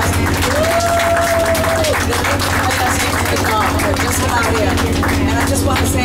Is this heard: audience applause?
yes